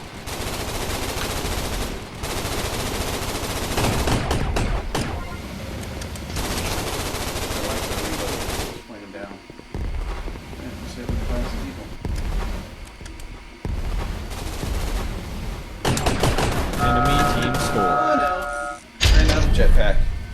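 Dual pistols fire in the video game Gun Raiders as a dense, loud burst of rapid shots, stopping and starting, with game sound effects and a voice talking over the action.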